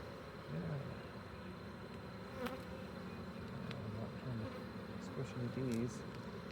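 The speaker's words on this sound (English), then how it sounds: "Bees keep going where I don't want them to be" A continuous hum of buzzing honeybees close by during a beehive swarm inspection, individual bees rising and falling in pitch as they fly past.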